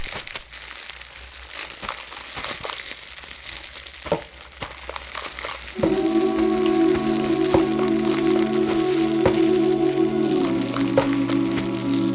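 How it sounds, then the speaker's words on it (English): Plastic bags and bubble wrap scrunch and crackle in a dense, rain-like patter, joined midway by a steady droning layer of sustained tones that carries on under the crinkling. "A grid filled with scrunching plastic bags and bubble wrap."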